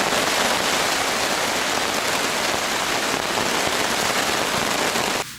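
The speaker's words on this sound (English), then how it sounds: "It's really raining now." Heavy rain pours steadily onto a tent and its surroundings, a dense, loud, continuous hiss that stays constant throughout before cutting off abruptly at the very end.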